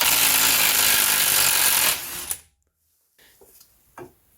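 A power tool and a spanner work on a control arm bolt of a Renault Trafic van. A loud mechanical whir runs for about two seconds, then stops, followed by a few faint metallic clicks and clunks.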